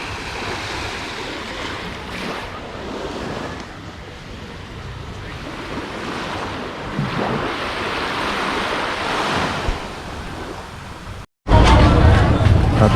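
Sea waves wash steadily onto the shore at Koh Phangan, Thailand, a continuous loud surf roar with wind buffeting the microphone, then a brief cut and a louder burst of surf.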